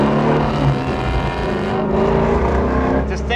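The actual car from The Rockford Files, a Ford track-style car, runs with a loud, close engine rumble that holds steady throughout, with a slight rise in revs toward the end.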